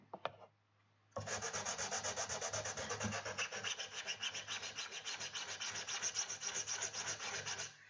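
Sanding over filler on a Skyrim warhammer prop sets off a brief knock, then about seven seconds of steady, close, rhythmic rasping strokes with no talk.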